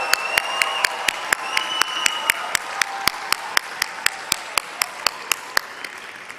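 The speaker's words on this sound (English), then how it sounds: "Give yourself a round of applause." Graduates applauding at a commencement ceremony: one sharp, steady clap repeating about every quarter second, loud and close, over a background of crowd noise and scattered voices.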